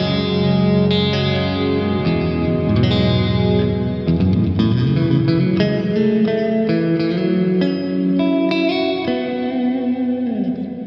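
A Chapman ML-1 Pro Modern 28-inch baritone electric guitar on a split neck pickup plays low, full chords and notes, ringing with a warm, slightly rounded tone and some effects, with no talking.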